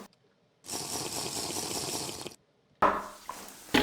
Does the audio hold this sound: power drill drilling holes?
no